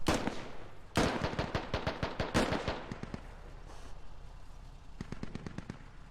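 Rapid bursts of automatic gunfire crack loudly in a Squad firefight, a dense volley up front, then sparser shots and a later quieter string of rounds, with no voices.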